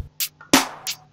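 A short fragment of an FL Studio drum beat with no kick under the snare, a few hi-hat ticks and one snare hit sounding thin and sparse, fairly quiet and without voices.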